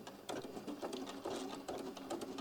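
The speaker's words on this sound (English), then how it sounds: "Raise my stitch length up and just do a couple quick little back tack here" A sewing machine runs a quick back tack with a lengthened stitch, a close, rapid mechanical whirring and clatter in a few short bursts that change direction.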